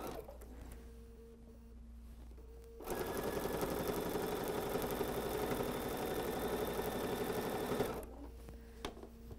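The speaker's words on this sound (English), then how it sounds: "I'll just start sewing right in here, leaving a nice big tail" A sewing machine stitches a quilted tote seam in one steady run of about five seconds, a close rhythmic mechanical whir with quieter room tone before and after.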